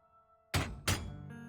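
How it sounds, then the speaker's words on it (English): Two firm metallic thuds from a fist lightly tapping a metal side in the video game Goddess of Victory: NIKKE, spaced about a third of a second apart over a quiet tonal music bed. "Anderson lightly taps the side with his fist. The metallic thud"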